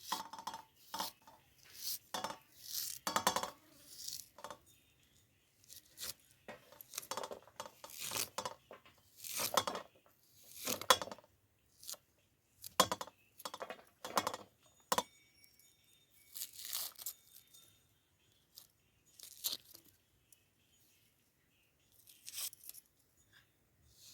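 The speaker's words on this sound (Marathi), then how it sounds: "असा बारीक कांदा चिरून घ्यायचा" Onion is finely chopped for kurdai bhaji, a sharp, irregular run of close knife chops and crunches that come in quick clusters separated by short pauses, with no one talking.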